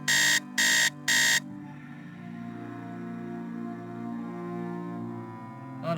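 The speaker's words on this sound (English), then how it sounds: "Alright, set the alarm." Alarm clock ringing in the Nancy Drew game Message in a Haunted Mansion, three loud rapid buzzing rings followed by a low sustained droning tone.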